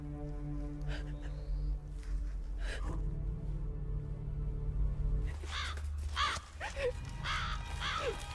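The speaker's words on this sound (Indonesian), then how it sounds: "Lah, burung sialan." A crow caws several times in a tense survival film scene with zombies, harsh calls over a low rumbling background with faint breathy sounds.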